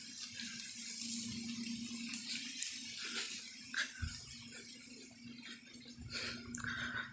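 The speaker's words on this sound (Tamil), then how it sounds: "தண்ணியெல்லாம் நல்லா பாயுதுங்க." Irrigation water runs steadily through a channel on a four-acre coconut farm, a continuous soft gushing and trickling with no voices.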